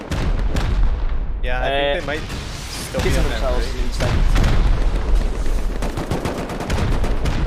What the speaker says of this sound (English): it is actually beautiful to see the rockets go off like fireworks here.